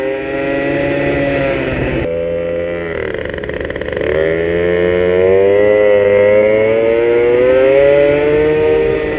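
A Magnum Racing XR moped engine revs loudly and close, its pitch dipping, dropping to a rough idle, then climbing and wavering through sustained high revs.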